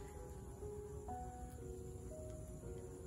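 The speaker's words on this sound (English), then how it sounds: "Bumblebees are almost frantic" Bumblebees buzz around flowering African blue basil in a garden, soft overlapping hums that shift in pitch as they move close to the flowers.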